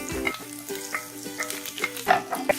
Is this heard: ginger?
yes